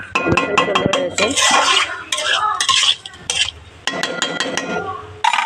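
Fried egg and potato stirred together in a pan, a spatula scraping and clinking against metal in close, repeated strokes with brief pauses and a soft sizzle underneath.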